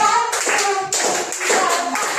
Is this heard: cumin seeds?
no